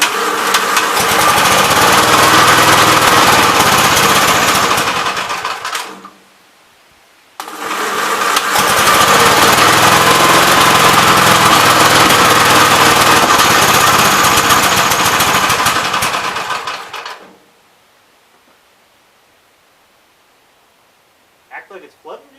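A 1971 Gravely C tractor engine runs loud and rough in two long bursts of about six and ten seconds, cutting out in between, then stops; a short faint knock follows in near silence.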